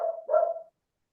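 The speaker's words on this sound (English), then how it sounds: "Your dog is out of order." A dog gives two short barks in quick succession, moderately loud and fairly close, then falls silent.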